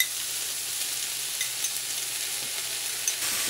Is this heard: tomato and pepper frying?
yes